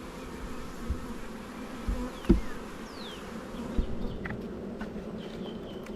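Honey bees buzzing steadily during a mid-April beehive inspection of a swarm colony, a dense low hum close by with a few louder bees passing near and faint thuds of hive handling.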